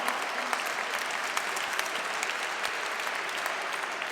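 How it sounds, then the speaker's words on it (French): Loud audience applause fills an award ceremony at a Franco-Armenian Chamber of Commerce 30th-anniversary event, steady dense clapping throughout as a prize winner joins the stage, with no voices standing out. "On applaudit Catherine qui nous rejoint sur scène."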